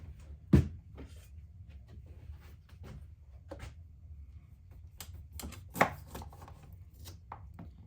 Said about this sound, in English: We're gonna use some limes, which I forgot to get out. Cut those babies in half.